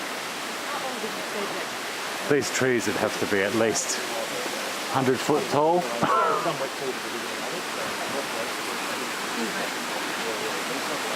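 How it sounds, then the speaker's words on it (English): Small waterfall on a forest creek among tall trees and large ferns, a steady broadband rush of falling water running throughout, with a voice speaking briefly over it in the middle. "Beautiful little creek here with a waterfall."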